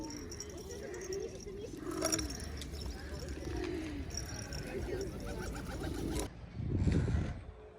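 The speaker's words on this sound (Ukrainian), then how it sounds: "Голуби." Pigeons coo softly amid outdoor ambience and faint voices, with a fuller, closer burst of cooing near the end.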